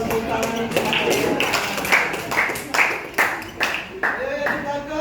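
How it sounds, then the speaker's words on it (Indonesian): A classroom of students claps for a classmate in a string of sharp, uneven bursts, with voices and a teacher speaking over the applause. "Tepuk tangan untuk Brian."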